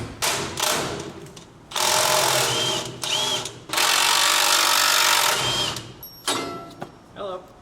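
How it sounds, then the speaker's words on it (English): Power tool loosening and removing metal brackets from a truck's custom front bumper, long bursts of loud close whirring with short pauses, metallic clinks and thuds between them, and people talking. "we're going to take these brackets off so we can sit the bumper in a little bit tighter"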